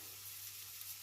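Cumin seeds frying in a hot pot over a high flame while making prawn biryani, a quiet steady sizzle with faint crackling, brief and alone.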